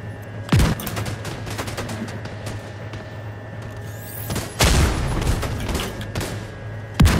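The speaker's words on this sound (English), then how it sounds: "Is anyone else getting mortars or is it just me?" Heavy booms and gunfire in the video game Iron Horse, with three loud broadband blasts at roughly half a second, 4.6 and 7 seconds over a constant droning battlefield rumble, no talk.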